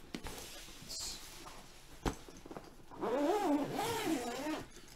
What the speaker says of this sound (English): Like I said, pretty sturdy zippers.